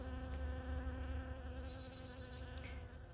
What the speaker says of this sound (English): look at this honeybee right there